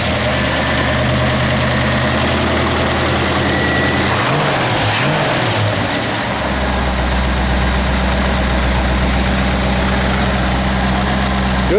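A 1970 Chevrolet Nova SS with a big-block engine idles with a loud, steady low rumble that swells briefly midway before settling back to a lumpy idle, with no talking.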